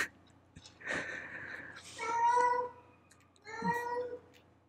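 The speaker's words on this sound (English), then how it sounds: "My cat is whining." A cat whines and meows nearby, giving three drawn-out, nasal cries with short quiet gaps between them in an otherwise calm room.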